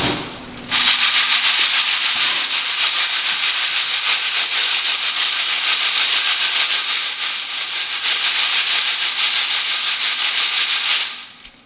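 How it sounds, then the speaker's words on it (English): A mechanical sieve shaker sifts aggregate through a nest of sieves down to 1.18 mm, making a loud, continuous rattling hiss that starts abruptly, holds steady for about ten seconds, then stops. "so now we can actually start sieving."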